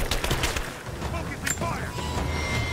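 Sustained gunfire from the video game Rise of the Tomb Raider, dense rattling bursts in a busy combat mix with voices talking over it throughout.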